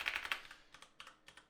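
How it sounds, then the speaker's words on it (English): A password being typed on a computer keyboard: a quick cluster of crisp key taps, a short pause, then a few more scattered clicks, close and fairly quiet with no talking. "Typing the right password is hard."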